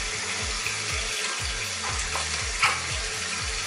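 Water splashes steadily as a face is rinsed during a night-time skin care routine, a continuous close wash of sound with no talking.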